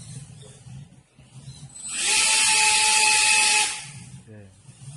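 Brushless motor fan on a fire-fighting robot blowing out a flame at a robot competition, a loud high-pitched whir rising for about two seconds, with talk around it.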